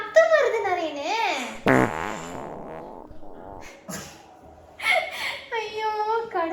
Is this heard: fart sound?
yes